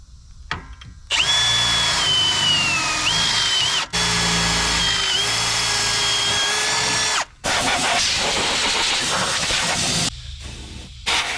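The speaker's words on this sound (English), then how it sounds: "This ain't lining up, so I'm gonna have to drill these out." A power drill whines loudly in several long bursts, drilling out bolts under a truck, its pitch wavering under load, with short pauses between runs.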